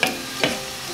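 Garlic frying in butter before prawns go in, a steady sizzle with two brief scraping stirs, close and alone.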